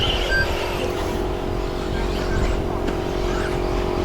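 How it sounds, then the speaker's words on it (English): A Schumacher Cat L1R 4WD RC car races around a bumpy club track, its high electric whine buzzing continuously at a middling distance over steady outdoor background noise. "I'm just stood with a smile on my face throwing this car around this bumpy track"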